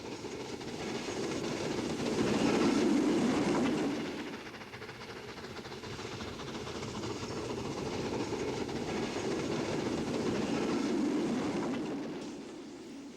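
A suburban steam train runs on double track near Trindade terminus in Porto, its rolling rumble and wheel clatter swelling as it passes close by, easing off, then rising again, with no talking.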